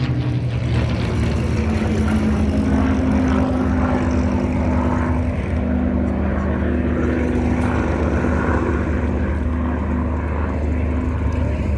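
At an airshow, a Focke-Wulf 190 and two Spitfires fly a dogfighting demonstration, droning with steady propeller engine tone that holds at a moderate distance the whole time, with faint crowd noise underneath.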